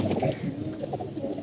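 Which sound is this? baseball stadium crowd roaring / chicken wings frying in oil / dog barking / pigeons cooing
pigeons cooing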